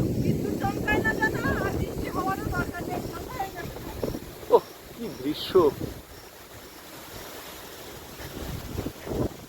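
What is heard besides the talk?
wind blowing before a storm, Sundarbans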